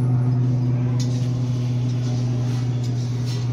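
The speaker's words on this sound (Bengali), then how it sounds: "হেলিকপ্টার যাচ্ছে, দেখ আওয়াজ হচ্ছে হেলিকপ্টারে।" A helicopter flies overhead, out of sight inside the clouds above a rural spot in Coochbehar, giving a steady, even droning hum that holds at a moderate level for the whole stretch with no voices.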